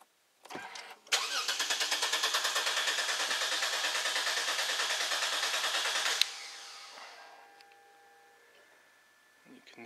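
A Lexus GS350 engine cranks over in a fast, even, rhythmic churn for about five seconds, then stops, leaving a fading hum and faint tones.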